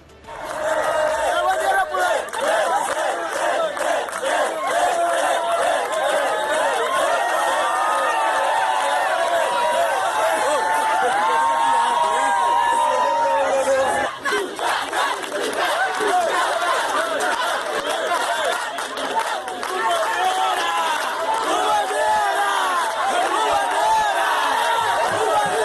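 A large football crowd roars and chants continuously, loud and dense, with many overlapping voices and rising, wavering shouts throughout.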